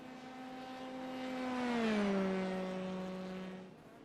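An F3 race car in a sim racing game at Silverstone passes by, its high engine note swelling to a peak and dropping in pitch as it goes away, with no talk.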